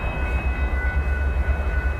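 A train rumbles along the track with a steady low roar and faint high whine, continuous and fairly loud throughout.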